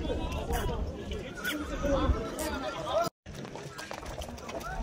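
A horse neighs at a livestock market amid a busy crowd, with chatter and background voices surrounding it and a brief cut near the end.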